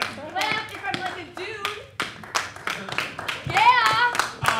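Sparse, sharp claps from a comedy festival audience in Milwaukee punctuate a performer's ongoing speech, a few hands at a time rather than full applause.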